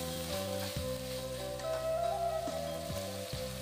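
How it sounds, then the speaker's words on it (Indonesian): Spice paste with lemongrass sizzles and crackles steadily in a hot pan while gulai kapau is being made, a continuous frying hiss beneath prominent background music. "Tumihan sebentar sampai harum."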